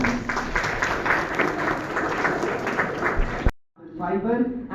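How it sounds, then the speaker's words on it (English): Audience applause for participants at a commerce quiz, lively and steady clapping for several seconds that cuts off abruptly before a voice begins speaking. "let's have a huge round of applause for all our talented participants."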